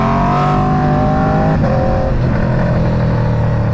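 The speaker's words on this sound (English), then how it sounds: "the quick shifter and the blipper. Wow, the difference, it's insane. The shifts are so much smoother. Downshifts, upshifts." An Aprilia RSV4 with a 520 chain conversion, quick shifter and blipper, revs loudly and steadily, then makes a crisp quick gear change partway through before the engine note continues.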